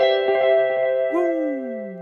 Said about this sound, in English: having the Memory Man style in the Echo Boy, it's just so analog sounding